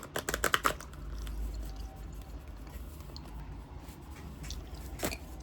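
Quick bursts of riffling tarot cards up front, followed by softer shuffling and a final flick, close and fairly quiet.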